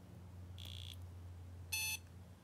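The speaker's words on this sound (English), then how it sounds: "okay, so first thing it does is beep" A Circuit Playground Express board gives two short electronic beeps, the first a mid-pitched tone and the second a brighter, louder one, over a faint low hum in a quiet workshop.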